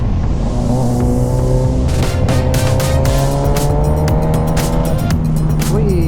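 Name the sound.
motorcycle engine revving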